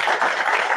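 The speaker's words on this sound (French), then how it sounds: "je crois qu'on peut à nouveau les applaudir." A short burst of clapping from attendees at a French cybersecurity breakfast talk, dense and fairly close, lasting under a second.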